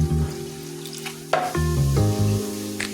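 Broth is poured onto beef nihari sizzling in a pan, giving a loud crackle and hiss with bubbling liquid and kitchen clatter.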